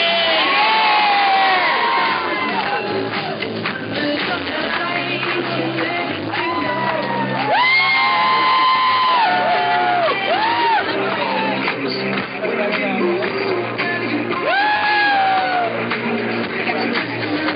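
Wedding reception guests cheer, whoop and shout at a loud, steady level for the new couple, with excited calls rising in bursts throughout and music or a voice running underneath.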